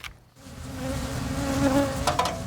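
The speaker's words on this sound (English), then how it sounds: "Bees buzz themselves out of a home." A swarm of angry bees buzzes loudly and close at a house, a dense, continuous droning hum with no voices.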